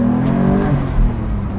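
A factory-stock manual Porsche 911 GT3 engine revs up close, a loud steady growl with strong low harmonics that swells briefly before settling, heard on its own.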